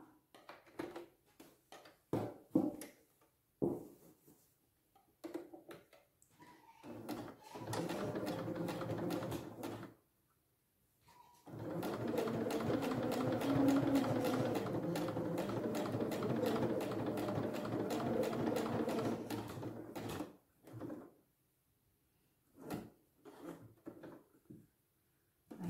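A sewing machine stitching a small black zigzag on fabric pieces being assembled into a top, running in long steady whirring bursts close by, separated by quieter handling clicks and brief stops.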